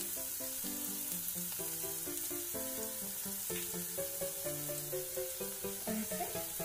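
Sabudana for khichdi fries in a pan with a steady, soft sizzle and light crackle, broken by occasional stirring scrapes, heard up close with no talking.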